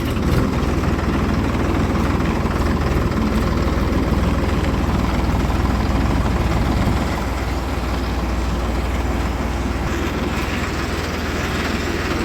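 A Farmtrac Hero 30 tractor engine runs at a steady idle on a farm, a constant low, rumbling drone with a faint rhythmic chug that holds for the whole stretch.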